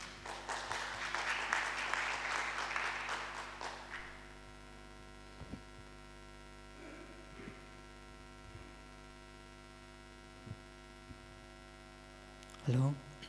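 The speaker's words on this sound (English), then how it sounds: "we'd like to welcome them on stage with a round of applause please" An audience at a singing competition's second-round stage claps for about four seconds as contestants come on, then the clapping fades into a steady electrical hum with a few faint knocks.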